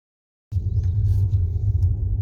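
A Ford EcoSport Active crossover SUV rolls along a dirt road, its low, steady rumble starting abruptly and holding close and even, with faint crunches and rattles from the surface.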